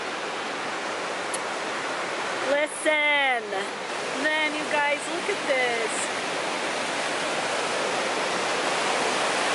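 Rushing river rapids in Algonquin Park roar as steady broadband water noise throughout, with someone briefly talking over it midway.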